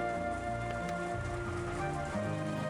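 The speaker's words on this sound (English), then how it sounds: "with the quiet sound of the never-ending wind and rain" Steady wind and rain ambience from the Umineko visual novel, a continuous hiss of falling rain layered over a soft, even background with no voices.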